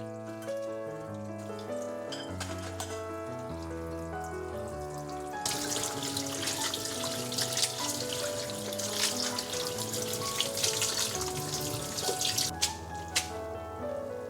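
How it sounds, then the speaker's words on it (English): Cooked ramen noodles get rinsed under a running kitchen tap, with water splashing and trickling in a sink, quiet at first and then a louder steady gush in the latter half, over soft tonal background music. "When the noodles are cooked, wash under the running water."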